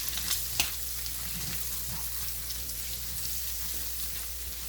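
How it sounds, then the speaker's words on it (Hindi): Prawns with ginger-garlic paste fry in a karahi, giving a steady, close sizzle with light crackles and occasional stirring scrapes throughout. "इसको भी साथ ही हमें फ्राई करना है।"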